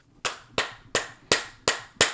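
A young child claps her hands at a steady pace to ask for more food, six sharp, distinct claps about a third of a second apart, close and clear with no talking.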